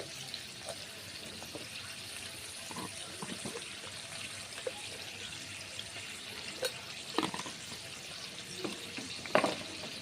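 Potatoes frying in hot oil with salt and turmeric, giving a steady sizzle with scattered crackles and the occasional clink of a stirring spoon against the pan, heard up close with no voices.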